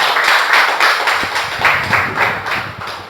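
A church congregation applauds after a closing prayer, steady claps of many hands sustained close and loud throughout, no talking over it.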